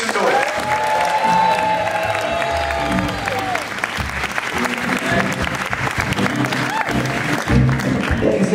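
Audience applause and cheering at the 2018 Flagpole Music Awards, a steady, loud wash of clapping with whoops and shouts rising over it, lasting throughout as a crowd welcomes performers to the stage.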